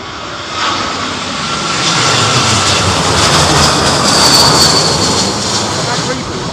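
A loud, close, steady jet roar comes from an Airbus A330neo landing at Heathrow in strong storm winds, swelling toward the middle with a high whine, while a voice talks underneath.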